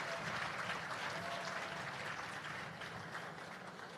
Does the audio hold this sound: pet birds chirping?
no